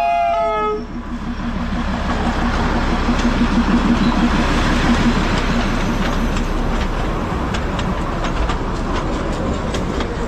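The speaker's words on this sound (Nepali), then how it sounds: "अहिले चाहिँ ट्रेन आउँदैछ" The Darjeeling toy train passes close by in the rain near the Batasia Loop, giving a loud, steady rumble and clatter of wheels on rails after a brief horn at the start.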